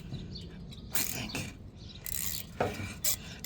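A hand ratchet tightens a bolt on the rear gas tank filler neck of a 1994 Ford F150, giving several short, quiet bursts of metallic clicking separated by pauses, close by and alone.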